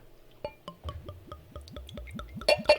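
Bourbon County stout being poured into a glass: a close, steady run of glugging pulses with small drips and clinks, ending in a couple of brighter splashes.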